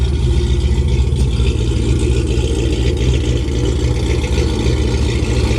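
A Dodge runs with Karnage mufflers fitted, giving a steady, deep, loud exhaust rumble that holds close and continuous throughout without any talk.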